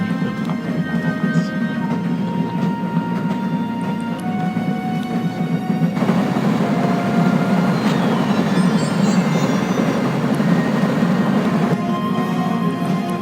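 A train rides along in the video game Divinity: Original Sin, giving a steady, continuous rumble with faint rattling and clatter that grows slightly louder partway through. No one speaks.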